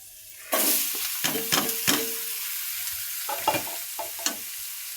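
Spice powder sizzles and is stirred in a hot pan for a vegetable curry, the frying hiss rising suddenly, then scraped and stirred in several quick bursts with brief pauses between.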